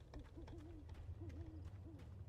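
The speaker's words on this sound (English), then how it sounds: "Oh, I hear an owl." Owl hooting in the video game Alan Wake, set around a lake at night: several soft, wavering hoots in two short bursts over a low, steady ambient rumble, heard alone without talk.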